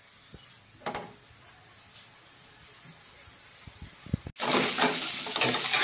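Ground spices frying in a pan over raised heat for a green cauliflower dish: light stirring scrapes at first, then a loud, continuous sizzle bursts in and holds to the end.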